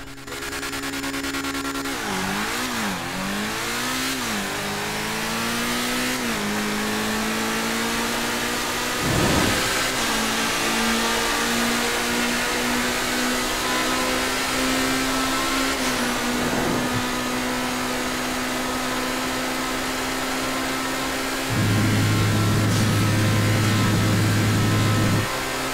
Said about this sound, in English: Infernus gives you that crisp sound when driving.